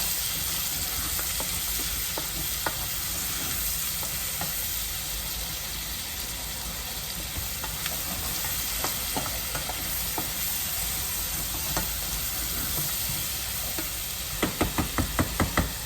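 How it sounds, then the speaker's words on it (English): Onions fry in a pan with a steady, broad sizzle, joined by soft scraping stirs and a quick run of utensil taps near the end. "Onions going fast, and I'll just give it a stir."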